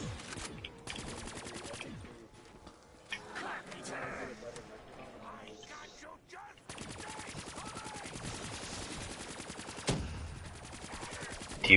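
Bursts of rapid automatic gunfire in a zombies video game, two long stretches of fast repeated shots with a quieter gap between, while players talk excitedly over the action.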